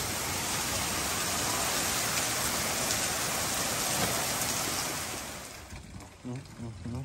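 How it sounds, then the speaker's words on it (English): Heavy rain falls outdoors as a steady, loud broadband hiss that fades toward the end, where people start talking. "the rain's just so big"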